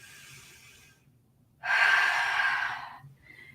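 A person takes a deep, audible breath in during a yoga movement, a breathy rush lasting about a second and a half after a softer earlier breath, close and alone without talk.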